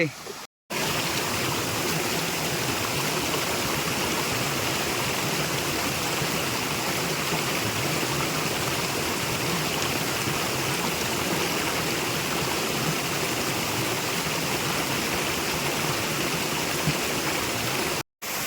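A waterfall near Panvel, Maharashtra, one of three falls at a picnic spot, gives a steady, dense rush of falling water that runs loud and unbroken for nearly the whole stretch, with only brief gaps at the start and end.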